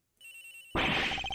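A mobile phone rings in the Ace Attorney Investigations game: a faint high electronic tone first, then a loud, bright ringtone bursts in with rapid pulsing notes, heard alone and close.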